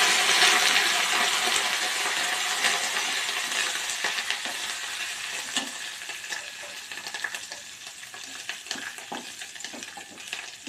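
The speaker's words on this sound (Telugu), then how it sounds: "స్టవ్ ఆఫ్ చేసి కొంచెం ఇంగువ, అలాగే కొంచెం కరివేపాకు," Asafoetida and curry leaves tempering in hot oil for cabbage chutney, a loud bright sizzle that gradually fades and thins, with occasional crackles and pops close by and no voices.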